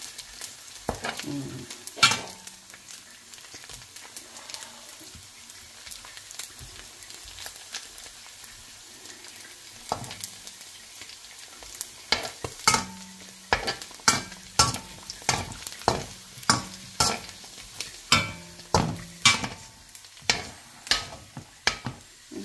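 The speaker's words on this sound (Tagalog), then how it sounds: "Kita nyo yan guys, pumuputok ng ating karne." Pork pieces frying in oil in a pan, a steady sizzle broken by sharp pops and repeated scraping stirs that grow louder and more rhythmic toward the end.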